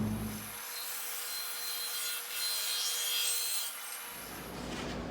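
A wooden shelf edge is trimmed with a saw, taking a thin strip off, producing a steady continuous rasping cut that runs for about three and a half seconds, fairly close and loud, with no talking.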